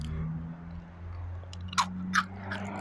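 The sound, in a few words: biting into crispy fried taro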